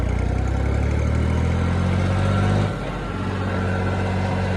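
A Massey Ferguson 9500 tractor engine runs steadily at idle, a loud continuous low rumble with a strong harmonic drone that drops slightly in pitch and level partway through, with no voices.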